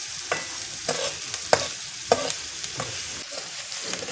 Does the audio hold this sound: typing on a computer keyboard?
no